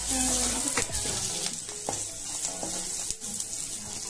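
Coriander leaves dropped into a hot tempering (popu) of oil and spices in a pan for Andhra pachi pulusu, producing a loud, dense crackling sizzle that settles as a spoon stirs, with no talk.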